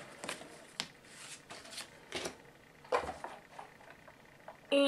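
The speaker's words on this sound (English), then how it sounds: "cut out this circle." A paper circle is cut out by hand for a bookmark, heard as soft, irregular crisp rustles and snips with short pauses, fairly quiet and close, ending in a sharper clunk.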